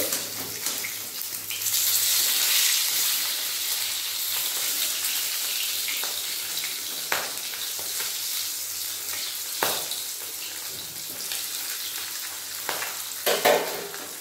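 Fish fries in hot mustard oil in a wok, giving a continuous close sizzle with occasional sharp clinks and scrapes from stirring and turning the pieces, and no talking.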